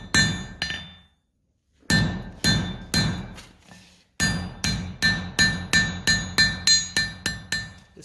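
A blacksmith hammers hot iron on an anvil to forge a scarf joint, a series of sharp ringing blows in quick bursts with short pauses, growing faster and more regular toward the end.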